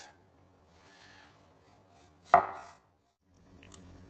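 A kitchen knife slices through mushrooms in one crisp, close cut that fades quickly, with a quiet room hum before and after.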